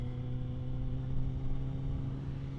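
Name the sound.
Triumph Street Triple RS 765 motorcycle accelerating in second gear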